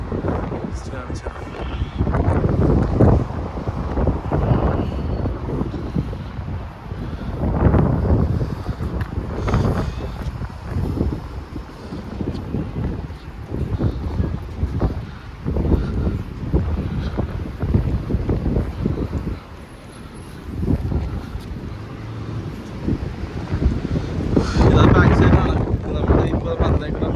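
Strong wind gusts roar and buffet the microphone behind a museum in Moscow, a heavy continuous rumble with brief lulls while someone speaks over it.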